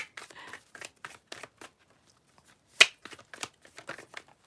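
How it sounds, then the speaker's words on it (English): Quick bursts of crisp tarot card shuffling, riffling in short clusters with brief pauses between them, close and fairly quiet. "I'm pre-shuffling for you"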